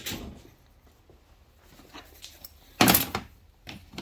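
A drawer slides open on a Snap-on 54-inch bottom bank tool box in a garage, with soft scuffs and clicks before a sharp metallic clunk, then a quieter knock.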